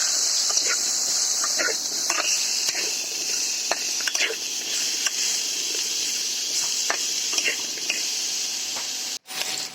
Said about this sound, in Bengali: এখানে আমি সেম আলুগুলোকে এবার ভেজে নেব লাল লাল করে